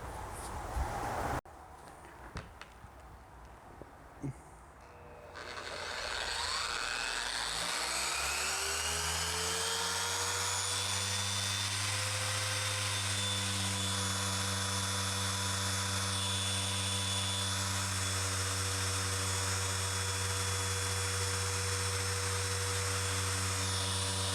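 A MAXSHINE M8 Pro polisher spins up from quiet into a steady, loud, high-pitched motor whine that holds evenly while the pad is pressed down on a surface, with faint handling clicks before it starts.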